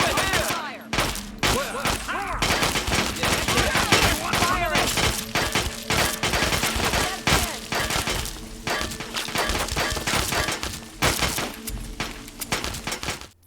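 Hostile Brotherhood of Steel soldiers open fire in a Fallout game, with dense, continuous bursts of gunfire and crashing impacts running throughout, mixed with shouted voices.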